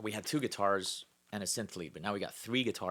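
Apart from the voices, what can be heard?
No distinct noise like a dog, phone or traffic.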